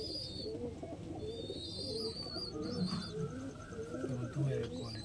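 Lalsira and Teddy pigeons coo in soft, repeated low calls, close but faint, with a few higher chirps and light background noise mixed in.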